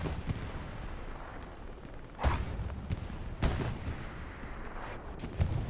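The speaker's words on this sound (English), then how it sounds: "Could have been artillery falling as well." Artillery and gunfire boom across a battlefield in the World War II shooter Hell Let Loose. A steady rumbling backdrop is broken by three or four louder, sharper blasts at irregular intervals.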